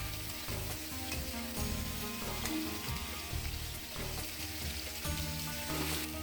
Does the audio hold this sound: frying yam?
yes